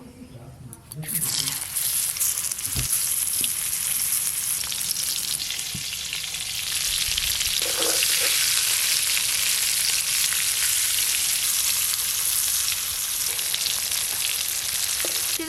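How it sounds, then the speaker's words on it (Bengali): Stuffed bitter gourds fry in hot oil, giving a steady, loud sizzle that runs the whole time with a few soft clinks and stirring touches near the start. "আর যে করলাগুলো আছে এইগুলো একবারেই ভেজে নেব"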